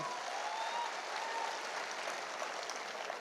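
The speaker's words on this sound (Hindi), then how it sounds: "जोरदार तालियां चाहिए।" An audience at a motivational business event breaks into applause, a steady, wide wash of many hands clapping at even loudness, somewhat distant and without voices.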